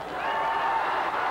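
1980s Continental Wrestling arena crowd reacting as bald wrestler Jerry Stubbs removes his hat; a brief, steady wash of cheering and murmuring voices filling the hall.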